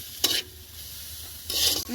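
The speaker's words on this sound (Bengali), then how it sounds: "পেঁয়াজটা হয়েছে কতদূর ভাজা হয়েছে" Onion fries in a pan on a gas flame with a steady low sizzle, broken by two sharp scraping stirs near the start and the end of the clip.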